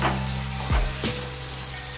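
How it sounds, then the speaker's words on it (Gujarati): Chopped spiny gourd frying and being stirred in a hot pan: a strong, continuous sizzle close by, broken by two quick scrapes of a spoon through the vegetables. "હવે જે કટિંગ કરેલા કંટોલા છે તે એડ કરીશું, તેને આ રીતના હલાવી લઈશું"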